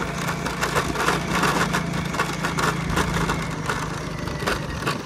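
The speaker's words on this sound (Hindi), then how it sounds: "मैं बाइक भी धीरे धीरे से चला रहा हूँ" Motorcycle ridden slowly along a rough, broken village road, a close engine putter under a steady rumble, broken by frequent rattles and clatters as the bike jolts over bumps.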